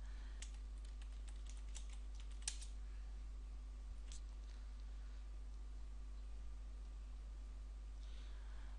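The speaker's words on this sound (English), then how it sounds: "I'll type in my Windows ID." Fairly quiet keystrokes on a computer keyboard while a Windows ID is entered during a Windows Server 2012 install, with a quick cluster of taps early on and a few scattered clicks later over a steady background hum.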